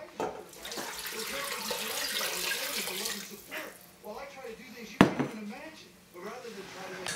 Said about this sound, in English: And we're going to add the water.